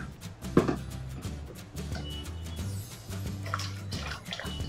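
Running water rinsing herbs in a kitchen, a quiet continuous splash and trickle with a few louder knocks and drips, no speech.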